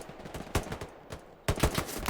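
Gunfire in a competitive tactical shooter match on a hill map blasts trees, two loud bursts of rapid shots with a lull between them, close and sharp.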